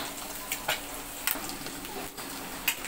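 Slices of bread frying in a pan on a gas stove, giving a steady broadband sizzle with a few soft clicks and scrapes from stirring or turning.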